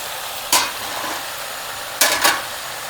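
Moong dal with spring onion greens stirred in a pan on the stove: a soft steady sizzle underneath, with three short scraping strokes of the spoon against the pan.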